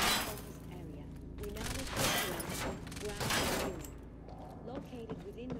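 Pistol fire in the video game Quantum Break, a few sharp shots with ringing tails mixed among game sounds, with a voice talking over the action.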